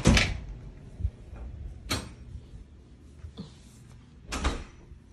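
A house door is opened for a delivered package, with three sharp clunks and rattles spaced a couple of seconds apart, fairly quiet and indoors, with faint movement between.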